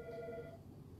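A telephone rings indoors in a brief electronic burst of warbling tones, moderately loud over a low room rumble, fading out after about half a second, with no speech.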